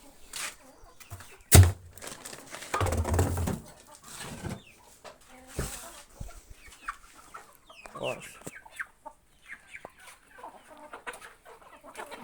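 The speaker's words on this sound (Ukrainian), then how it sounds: "Ось такі у нас індики." Turkeys and other poultry call and cluck in short bursts around a farmyard, with a person talking now and then and a loud thump early on.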